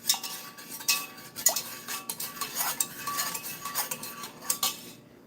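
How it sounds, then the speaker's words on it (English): A utensil scrapes and clinks against a metal pot as melted candle wax with violet colour chips is stirred in a kitchen, a steady run of light, close tapping scrapes. "And I'm going to stir that around."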